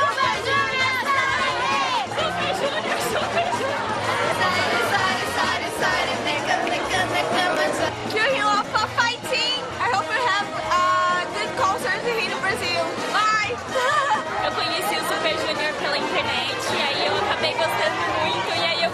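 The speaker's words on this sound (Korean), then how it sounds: "엄청난 환호 소리가 그곳까지 들리더라고요" A large crowd of fans at an airport in Brazil, waiting to greet a K-pop group, cheers and chatters continuously and loudly in a dense, steady roar with excited voices throughout.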